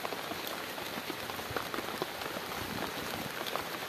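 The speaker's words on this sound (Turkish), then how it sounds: "yağmur başladı." Steady rain falling outdoors on open ground in the countryside while goats are being herded, a soft continuous patter of drops at moderate distance with no talking.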